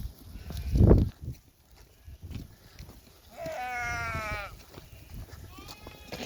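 Sheep or a ram bleating on a walk through a Warsaw forest, one wavering bleat and then a shorter one, mid-distance, with a loud thump and rustling earlier and faint voices in the background.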